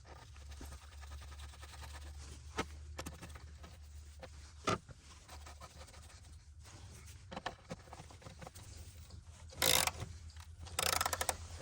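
A nut being tightened onto a car battery terminal of a Chrysler 300 with a ratchet wrench, quiet close clicking ratchet strokes with a few sharper knocks, under a low background hum and no talking.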